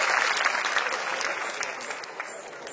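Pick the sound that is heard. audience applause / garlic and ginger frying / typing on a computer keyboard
audience applause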